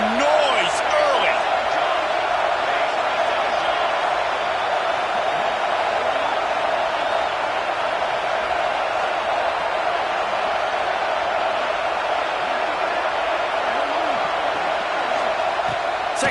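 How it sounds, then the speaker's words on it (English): Steady, dense stadium crowd roar in a football video game, a constant wall of cheering noise that holds for the whole stretch with occasional brighter whoops on top. "This crowd bringing the energy and noise early."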